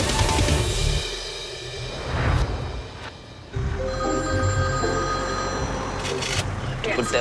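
A smartphone rings with a repeating electronic tone amid ambulance-crew chatter and engine rumble, fairly loud under overlapping speech.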